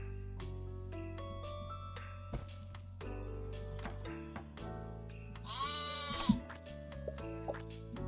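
Sheep in the card game Terracards bleat in wavering calls over a looping musical background, with one louder, prominent bleat near the end of the short stretch.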